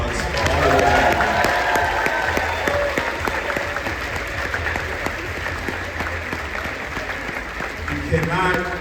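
A convention crowd at the Blerdcon closing ceremony breaks into sustained applause, dense clapping that swells early and slowly tapers, with a few scattered voices and cheers mixed in.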